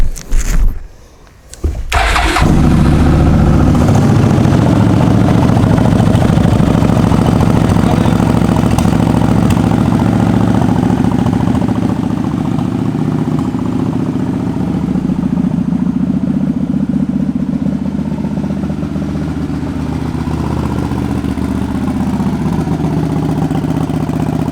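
A 2003 Suzuki Marauder 800 motorcycle starts after a brief failed crank, then settles into a steady, loud idle for over twenty seconds, its low rumble close and uninterrupted with no talking.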